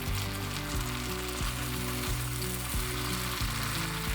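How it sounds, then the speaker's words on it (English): King or tiger prawns with tomatoes, green beans and chili frying in a pan, a continuous sizzle with a few gentle stirring knocks at regular intervals, no voices. "Just give it a gentle stir again."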